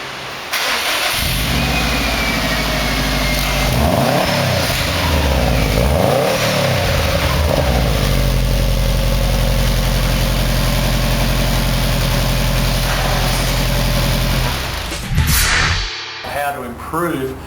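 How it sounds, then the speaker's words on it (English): A turbocharged Subaru fitted with an MRT performance exhaust starts, then idles with a deep steady burble and is blipped through several rising and falling revs, loud and close, before it shuts off near the end. "it gives you an opportunity to listen to what the exhaust sounds like"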